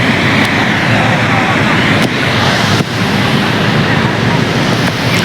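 Water rushes from four partly opened gates of Mukteshwar Dam in a loud, steady, continuous roar, with wind buffeting the microphone throughout.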